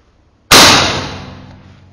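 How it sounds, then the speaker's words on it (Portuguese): A PCP air rifle charged to 250 bar fires a single shot: one sharp, loud crack with a sudden onset and a bright ringing tail that fades over about a second and a half, with no other sound around it. "a carabina tá com 250 bar, ok? Vamos fazer um disparo aqui."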